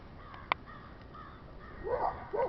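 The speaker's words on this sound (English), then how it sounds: "There we have the crows gliding in the air." Crows cawing outdoors, with a sharp click early on followed by a couple of harsh, rising caws near the end, moderately close over a low background rumble.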